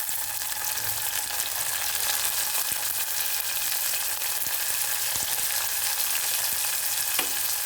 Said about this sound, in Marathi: त्यानंतर कांदा टाकायचा त्यामध्ये टमाटर टाकायचं